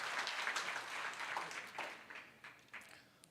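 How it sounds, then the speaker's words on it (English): An audience at a bodybuilding night of champions claps in a broad, dense burst of applause that swells briefly and then slowly thins out, with no voice over it. "Let's give Ace Ngabo a big round of applause,"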